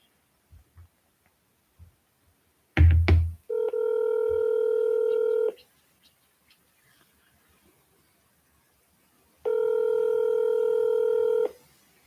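Phone dialing during a commercial real estate cold-calling session: a brief clatter, then a steady multi-tone telephone signal held for about two seconds, silence, and a second identical tone burst near the end, clear and close.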